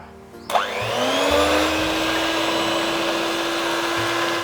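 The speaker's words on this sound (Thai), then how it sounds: "เสร็จแล้วก็ตีส่วนผสมให้เข้ากันครับ" An electric mixer whirs on steadily, beating a butterfly pea flower batter with coconut cream for khanom fak bua, the motor kicking in sharply and holding a constant, fairly loud drone with no talking.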